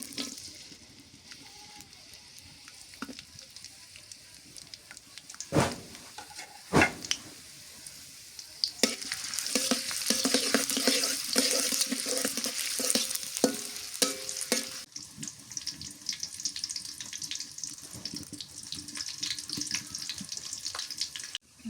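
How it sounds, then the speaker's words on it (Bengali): Onions frying in oil in a pan, a steady sizzle rising midway with stirring and scraping clatter, a couple of sharp knocks early on, no talk. "তেল দিয়ে দিই। পেঁয়াজ দিয়ে দিই।"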